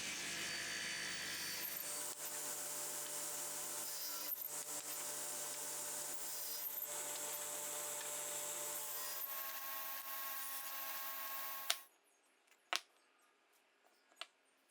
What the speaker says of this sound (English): I'm going through and cutting one end on each piece at 10 degrees.